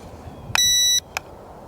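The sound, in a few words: beep from LSRC S1S mini drone during calibration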